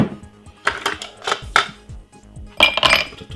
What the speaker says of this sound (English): 2 pieces of ice.